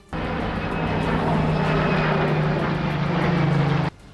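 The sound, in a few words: F-35A Lightning II stealth fighter jet flying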